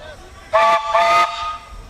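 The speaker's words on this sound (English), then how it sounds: "I just want to hear the whistle" Two loud steam engine whistle blasts in quick succession at a threshermen's reunion parade in Austin, Manitoba, each about half a second, shrill and breathy with a hissing edge.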